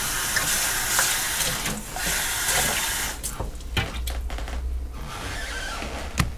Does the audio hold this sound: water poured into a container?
yes